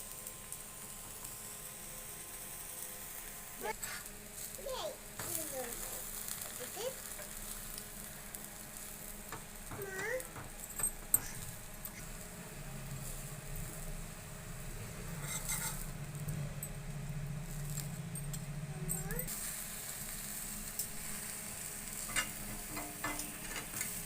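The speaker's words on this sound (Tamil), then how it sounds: "இது நான் கீ கொஞ்சம் ஊற்றுறேன்" Ghee poured into a hot pan while making a homemade veg sandwich sizzles and crackles steadily at low level, with occasional scrapes of a utensil stirring against the metal.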